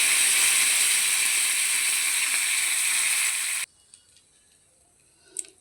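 Curry leaves and dry chilli hit hot oil with a loud, steady hiss and sizzle that cuts off abruptly, followed by faint clinks and a soft clatter near the end.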